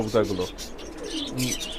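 A pair of new adult Umani pigeons coos close by in soft, low, rolling calls, with a few brief chirps in between.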